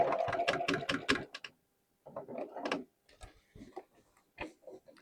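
A sewing machine double-stitching a seam on a pair of overalls, running in quick bursts of rapid stitches with short pauses between, close and fairly loud.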